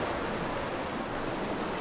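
Sea waves heard from a seaside hotel terrace beside a room, a steady, dense wash of surf at moderate distance, soft and continuous, with a little wind noise and no voices.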